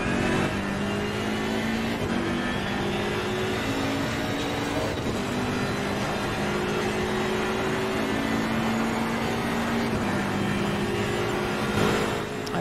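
A GT race car in Assetto Corsa Competizione screams along the Mistral straight at Paul Ricard, its engine climbing steadily through the gears with brief dips at each upshift, loud and continuous throughout.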